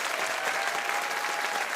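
A studio audience applauds the band, dense continuous clapping throughout.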